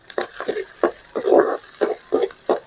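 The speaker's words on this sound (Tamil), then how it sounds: "நல்லா வதக்கி விடுங்க." Onion, green chilli, curry leaves and mustard seeds being sautéed in a pan, a close sizzle broken by repeated bursts of stirring, each scrape rising loud and then settling, with no talking.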